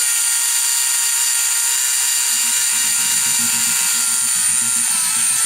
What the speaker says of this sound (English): So I'm going to start by drilling just a hole here.